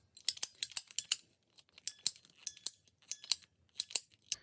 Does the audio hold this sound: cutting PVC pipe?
yes